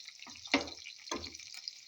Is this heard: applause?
no